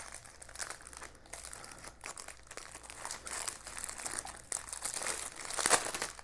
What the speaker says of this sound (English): I really like that crinkle sound.